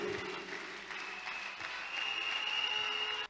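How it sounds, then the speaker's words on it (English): A congregation claps for the Lord during a church service, sustained even applause filling the room throughout with a faint tonal hum underneath. "clap for the Lord once again"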